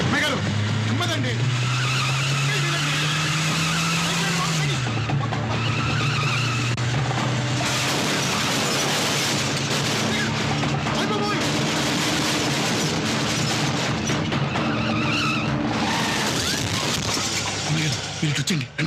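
A car is driven recklessly in a film comedy scene, with rising engine whine, tire skids and a crash-like clatter, while people shout and talk over the commotion throughout.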